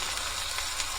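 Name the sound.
food sizzling while cooking in a pan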